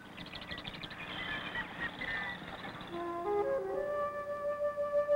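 Mallard ducks calling on a marsh pothole, a series of nasal honking quacks, first busy and overlapping, then clearer drawn-out calls at moderate distance.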